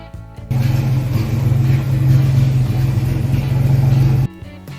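A 1972 Valiant with a 265 Hemi six-pack engine idles with a loud, steady low rumble that starts abruptly, holds for about four seconds close by, then cuts off.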